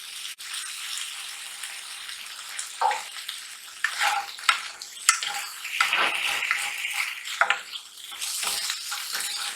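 Spiced potatoes with oil, red chilli powder and salt sizzle in a preheated pan, a steady hiss broken by scraping stirs and clatters as they are mixed, close and alone without talk.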